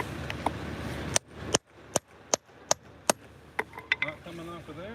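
A ratcheting wrench works on a car wheel lug nut during a tire change at a speedway in Indianapolis, producing sharp, evenly spaced metallic clicks close up, followed by a cluster of quicker clicks and faint scraping.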